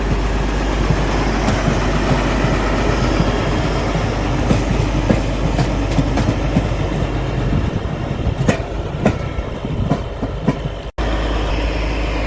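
A railway track packing (tamping) machine rolls along the rails at Beed railway station, a steady loud rumble with rhythmic clickety-clack and metallic clanks, close by and continuous, with no voices.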